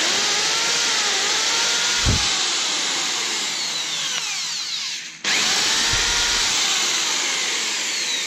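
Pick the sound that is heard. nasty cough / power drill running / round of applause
power drill running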